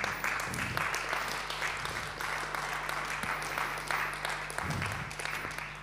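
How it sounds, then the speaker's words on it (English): Steady applause for the event team at a wood innovation conference, clapping held at an even level throughout over a constant low hum. "A big applause for Rosengrün team"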